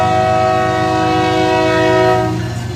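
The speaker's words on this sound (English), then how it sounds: "That's a fouled horn." Fouled, harsh-sounding horn of an intermodal freight train blows one long continuous chord at close range, loud and steady before easing slightly at the end, with faint rail rumble beneath.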